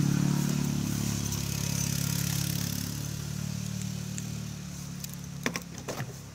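A 2002 Mitsubishi Montero engine running after sitting unused for a week, a steady low idle with mechanical clatter that eases slightly, then a few sharp knocks near the end.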